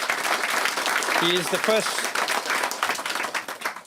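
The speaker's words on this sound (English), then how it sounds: "we all please give a round of applause for our very own Prime Minister" An audience at a Tamil Heritage Month celebration in Ottawa applauds the Prime Minister, dense clapping running throughout while a voice speaks over it and a few short cheers rise briefly.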